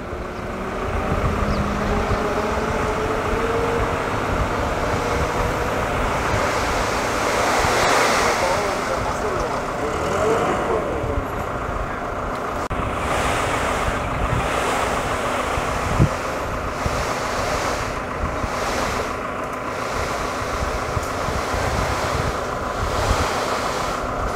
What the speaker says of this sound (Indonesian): suasana pantai karang airnya lagi surut